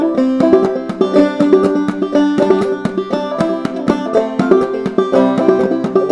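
Banjo picked up to speed, the thumb slapping the head each time the fifth string sounds, gives a bright, dense stream of plucked notes with sharp percussive taps woven through, close and loud with no talk.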